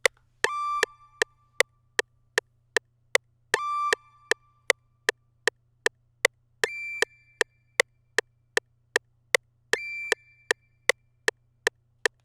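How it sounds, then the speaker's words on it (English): Chirpy synth lead in a hip-hop beat, with a bird-like or delayed-pluck quality, plays four short bursts over a steady, evenly ticking rhythm, alone with no voices. "it kind of sounds like a bird chirp or like a weird delayed pluck or something like that"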